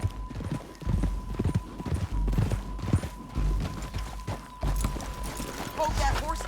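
Horse hooves clip-clop in Red Dead Redemption 2, a close, uneven run of hoofbeats on the ground with faint game voices and ambience underneath.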